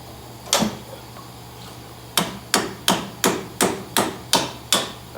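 A hammer strikes a suspension link during a Saturn Ion strut replacement: one sharp metallic tap, a pause, then seven evenly spaced taps in a steady rhythm, close and clear with no speech.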